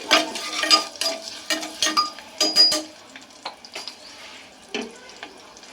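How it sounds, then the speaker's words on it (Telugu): Garlic and dried red chillies are stirred and fried in a pan, giving soft sizzling under irregular scraping and clinking of a utensil against the cookware, close by, with quieter stretches between the bursts of stirring. "వెల్లుల్లిపాయ వేసుకుని మిక్స్ చేసేసుకుంటానండి."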